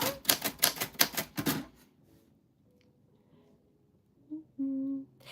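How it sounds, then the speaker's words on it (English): A typewriter clatters in a rapid run of about a dozen sharp keystrokes, then falls silent before a short tonal chime and a hum near the end. "Today is today is chaotic typewriter typing."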